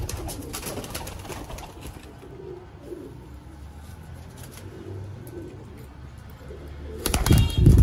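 Soft cooing of pigeons, including Golden and Teddy breeds, murmurs through a low, steady background, followed at the end by a louder burst of rustling or wing flutter close by.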